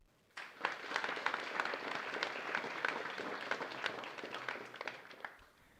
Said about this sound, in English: We've been doing a lot of clapping